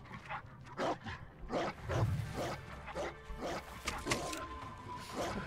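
A dog in the video game Ghost of Tsushima barks and yips in a quick irregular series of short woofs, fairly close, with faint background ambience.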